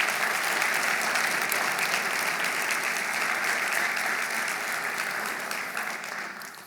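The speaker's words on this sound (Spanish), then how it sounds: "Dale un aplauso fuerte al Rey." Church congregation giving a loud round of applause during a sermon service, thick continuous clapping that stays strong and then slowly fades toward the end.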